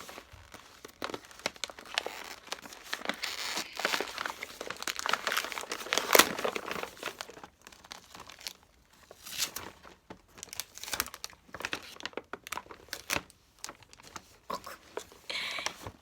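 Tape being torn and peeled off a PR package box, with crinkly rustling and tearing bursts that come and go, close up, some packaging handling between them.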